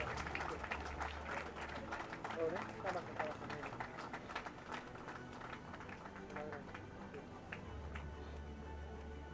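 Crowd clapping at a Sri Lanka rowing nationals award ceremony after the army wins the open men's scull trophy; sustained, moderately loud applause with sharp individual claps, continuing for several seconds under murmured voices.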